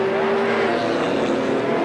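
A Porsche GT race car at the Anderstorp circuit roars past with a loud, rough engine drone that swells and fades across a brief moment, joined by faint tire noise.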